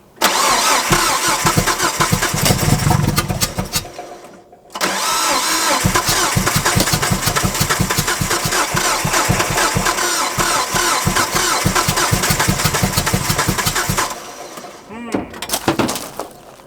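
The engine of a neglected Nissan Frontier pickup cranks and fires in two attempts, a rapid rhythmic chugging broken by a short pause, loud and close, with a burst of voices near the end.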